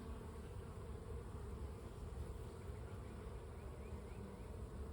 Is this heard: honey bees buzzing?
yes